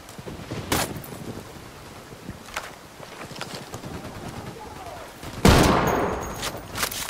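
Tactical shooter gunfire in Ghost Recon Wildlands, with sharp shots scattered through the clip and a loud, close burst late on that rings out in a lingering tail, while quieter distant pops continue.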